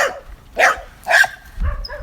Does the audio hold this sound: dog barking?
yes